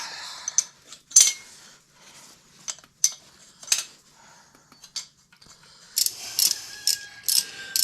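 A hand ratchet snugs down the cylinder head bolts on a Harley-Davidson engine, giving quiet bursts of clicking pawl strokes with short pauses between them and a faster run of clicks near the end.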